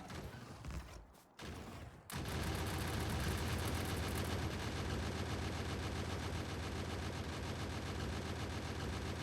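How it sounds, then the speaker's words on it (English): Several gun turrets in the factory game Krastorio 2 fire in a dense, continuous barrage on an enemy nest, loud and steady after a brief rumbling lead-in, with no talking. "of multiple turrets firing on enemy target."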